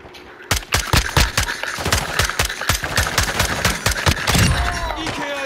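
Rapid bursts of automatic gunfire from Call of Duty Modern Warfare 2 on PS5, loud and close, rattling in quick repeated shots before trailing off near the end.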